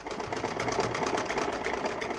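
Sewing machine stitching a sleeve into a suit, a steady close mechanical whir running evenly throughout with no voices.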